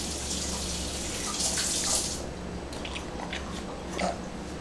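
A tap runs with a steady splashing hiss as something is rinsed under it, the flow easing slightly partway through.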